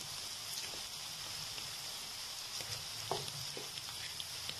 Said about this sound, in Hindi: इसको भी 5 मिनट के लिए भूनूंगी कि ये भी अच्छे से फ्राई हो जाए।